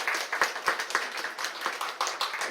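Church congregation at a Korean Sunday worship service claps to welcome a visitor, a steady patter of many hands at moderate volume with no talk over it.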